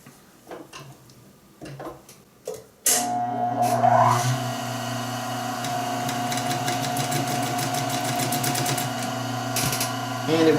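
An industrial sewing machine fitted with a domestic needle starts after a few faint handling knocks, then runs steadily to the end with a fast, even ticking stitch rhythm, loud and close.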